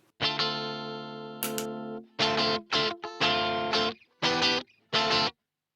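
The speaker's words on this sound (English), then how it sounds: "So I'll just put this guitar in single coil mode. So turn the distortion all the way off again." Clean electric guitar in single-coil mode with distortion switched off, played as a held chord and then a series of short strummed chord stabs, each ringing briefly and stopping, loud and close with no talking.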